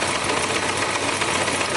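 A Yamaha Diversion motorcycle engine runs steadily after its flooded side carburettors were drained, giving a close, loud, continuous mechanical rumble with a busy rattle and no voices.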